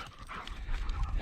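A dog or dogs on a rural property at winter's end pant and whimper up close, with brief yips and a short bark in one quick burst.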